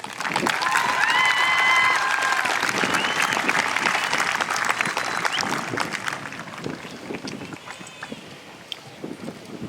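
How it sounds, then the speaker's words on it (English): A large graduation ceremony crowd claps steadily for honored graduates, dense and loud at first, then thinning and fading toward the end. "Please join me as we honor this group with a round of applause."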